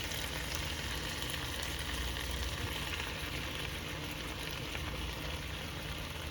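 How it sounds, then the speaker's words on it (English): Tomatoes go into a hot pan of kale and garlic, sending up a quiet, even sizzle and crackle that carries on steadily, with faint stirring sounds and no voices. "now let's add these beautiful tomatoes"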